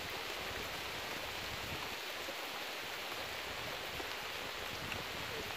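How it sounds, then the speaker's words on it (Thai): Heavy rain pours steadily on a high mountain summit in Thailand's Suphanburi province, a dense, continuous hiss with no breaks and no voices. "ตอนนี้ฝนตกหนักมาก"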